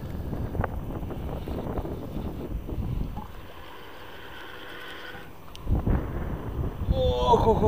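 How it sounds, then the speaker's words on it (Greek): Cold wind blows during a night of casting from the shore, buffeting the microphone with low, gusty rumbling that dips in the middle before picking up again, with faint voices mixed in. "Φυσάει."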